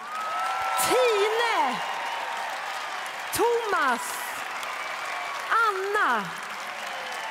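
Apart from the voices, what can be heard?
audience applause for house choir and dancers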